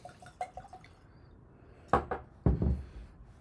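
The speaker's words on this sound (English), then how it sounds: "Let's get this in the glass and let it air out" Tequila poured from a bottle into a glass: a few small drips and glugs, then two louder splashing pours with thuds of glass, close up and with no talk.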